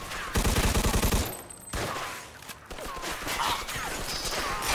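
Gunfire in Mafia 2: Definitive Edition, a rapid burst of loud automatic shots followed by scattered single shots and other game sounds.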